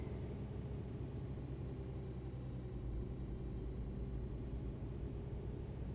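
A steady, low truck engine rumble in a video game idles and drones evenly throughout, with no voices and little change in pitch.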